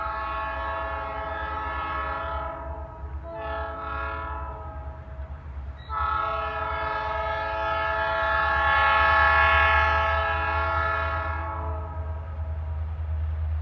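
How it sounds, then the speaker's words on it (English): A grain train climbs a hill at a railroad crossing in Ohio, its diesel engines rumbling steadily beneath long, loud horn blasts that break briefly and then sound again strongly and close by. "And here comes the train."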